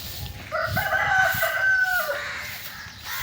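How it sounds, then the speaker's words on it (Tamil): A rooster crows once, a loud drawn-out call over faint background noise outdoors. "இங்கே ஒரு கோழி இருக்குது"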